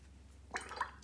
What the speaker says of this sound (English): Rinsing my brush.